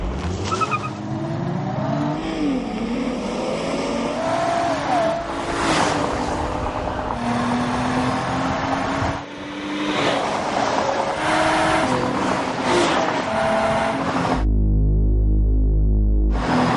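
Muscle cars and a Hyundai accelerate together from a race start, engines loud and close, revving and rising in pitch over a continuous mechanical roar.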